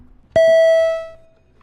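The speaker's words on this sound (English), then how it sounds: "Can we ring the bells, just double check?" A senate chamber quorum call bell gives one loud, bright electronic ding that rings on and fades over about a second, alone in a quiet room.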